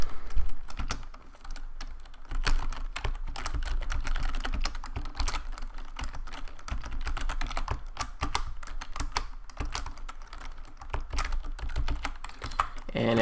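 Rapid, steady typing of VBA code on a computer keyboard, close clicking keystrokes in a continuous busy rhythm throughout, with short pauses and occasional heavier key thumps.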